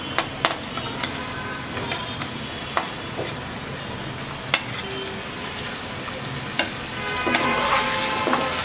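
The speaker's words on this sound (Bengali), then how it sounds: "গাজরটা দিয়ে এখন এটা একটু ভালো করে ভেজে" Carrots stir-frying with chicken in a pan, a steady sizzle with scattered sharp clicks of a utensil stirring, growing a little louder toward the end, no voices.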